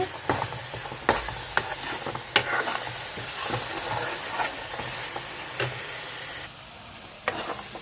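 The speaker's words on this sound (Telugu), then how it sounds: "మసాలా ముద్ద అంతా ఏగిందండి పచ్చివాసన పోయింది" Onion masala paste for a fish curry sizzles steadily in a pan, a continuous hiss broken by occasional sharp clicks and scrapes of stirring, with no one talking.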